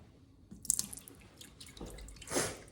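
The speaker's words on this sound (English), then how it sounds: "Just gonna carefully pour this in. The whole thing, the whole gallon." A whole gallon of milk poured carefully into an Instant Pot for homemade yogurt, giving a soft, quiet splashing and trickling of liquid that swells toward the end, with no talking.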